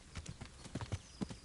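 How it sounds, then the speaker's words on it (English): Horse hooves galloping in the medieval video game Kingdom Come: Deliverance, a rapid irregular clip-clop of several close, punchy footfalls over a short stretch, with no voices. "We're going to try to gallop right through here."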